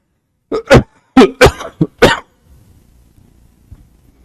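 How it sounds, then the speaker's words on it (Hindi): Heavy, harsh coughing from someone with a cold: a burst of about six loud, close coughs in quick succession, then quiet room tone. "खांसी आ रही बहुत तगड़ी"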